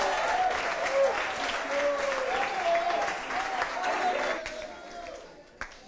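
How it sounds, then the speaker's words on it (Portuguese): A crowd at a Carnival camp gathering applauds for a man who cleaned the pool and bathrooms. The clapping is sustained and dense, with voices calling out over it, then it thins and fades near the end. "Salve de palmas pro Lúcio que deixou a piscina limpinha e os banheiros limpinhos pra gente também."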